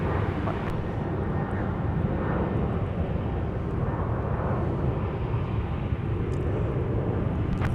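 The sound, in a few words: airliner on final approach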